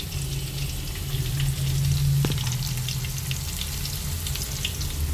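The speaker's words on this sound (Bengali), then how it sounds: "এই যে এখানে আলুটা ভাজছি।" Potatoes fry with turmeric in an oiled pan, a steady close hiss and crackle of sizzling that continues evenly throughout with a brief clink of utensil, no talking.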